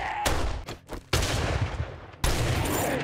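Bursts of rapid gunfire in the video game 7 Days To Die crack out in several sharp volleys, loud and close, with brief gaps between them.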